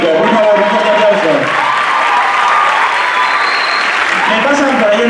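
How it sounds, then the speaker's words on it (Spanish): Loud, close audience applause at a live choreography show, greeting beatboxer Matías Romero, dense clapping holding steady for several seconds with a little cheering and voices mixed in. "Por favor, un fuerte aplauso."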